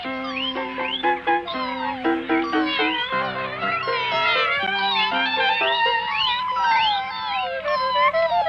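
A cartoon cat on an old VHS children's tape meows over and over in rapid, overlapping, bright cries that rise and fall, loud and close, with no talking.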